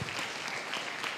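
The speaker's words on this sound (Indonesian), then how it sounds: "kita beri tepuk tangan seikhlasnya" Audience applause at a teachers' seminar, a short burst of many hands clapping together, fairly soft and even throughout.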